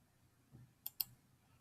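Two sharp, close mouse clicks in quick succession while working in Rainbird Cirrus irrigation software, preceded by a soft low thump, otherwise near-silent.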